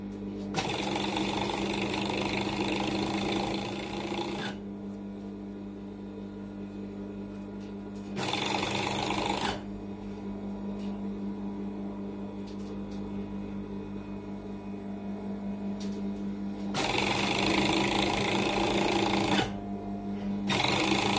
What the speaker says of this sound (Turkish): Ve yanlardan dikmeye başlıyoruz overlock'ta.